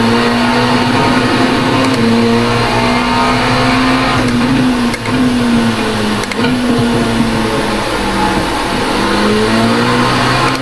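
An LMP2 prototype race car's engine drones loud and steady throughout a spin on Spa in iRacing, the pitch wavering and dipping slightly as the car rotates, with faint clicks over the continuous roar and no talking.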